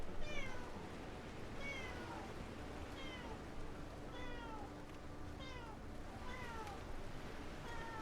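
A cat meows repeatedly, short rising-falling cries every second or so, fairly quiet over low background noise.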